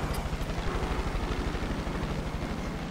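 A helicopter in the Far Cry 5 video game drones steadily and loudly, its rotor thumping in a fast, even pulse with constant engine noise and no break throughout.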